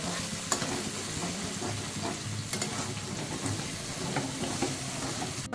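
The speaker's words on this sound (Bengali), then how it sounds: "যতক্ষণ অব্দি তেল মাছ ছাড়বে ততক্ষণ অব্দি এরকম কষিয়ে যাবো আমি মশলাটা" Masala with ground cumin fries and sizzles steadily in hot oil for palak paneer, with a spoon repeatedly stirring and scraping the pan close by.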